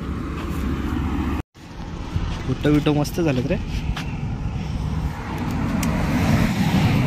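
A car approaches along a roadside, its broadband engine and tyre rumble growing louder toward the end while people chat casually over it.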